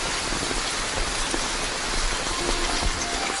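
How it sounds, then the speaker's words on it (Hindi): Dense, steady downpour of heavy rain, a continuous close roar of drops pattering on surfaces with no voices. "इतनी बड़ी बारिश है, थोड़ी देर और रुक जाएं।"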